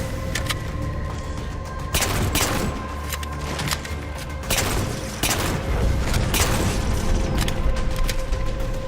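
Continuous gunfire from a Halo 4 firefight against Grunts and Jackals, dense bursts and sharp shots layered over a steady loud game soundscape, with heavier booming reports every few seconds and no talk.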